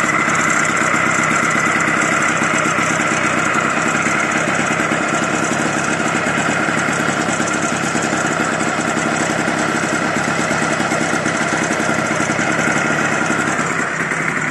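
A motorized bicycle engine idles with its idle speed raised slightly, a steady, close and loud putter that runs alone throughout.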